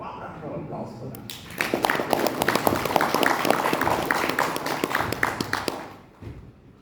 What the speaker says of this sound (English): Let's give a warm round of applause for that.